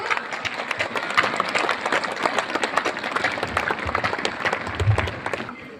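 Audience clapping at a school annual sports meet in Umsohlai: dense crowd applause with many individual claps, loud and continuous, tapering off at the close.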